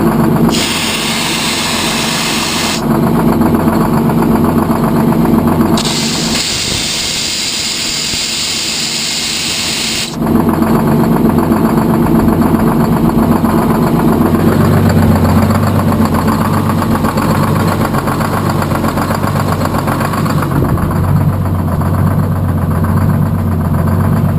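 A steady, rumbling Detroit Diesel engine idles close by during a cold start, its tone shifting slightly as a loud hiss cuts in and out for a few seconds.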